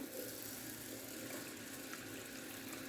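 Drinking water pours steadily into a bowl of washed rice, a continuous splashing stream close by with no pauses.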